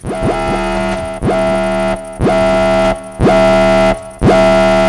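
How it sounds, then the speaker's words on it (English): A loud, harsh electronic emergency alarm in Minecraft blares in five repeating bursts, each starting with a rising sweep and holding a buzzing tone. "And that is with our handy-dandy emergency alarm here."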